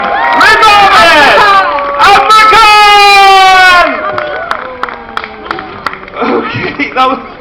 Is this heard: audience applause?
yes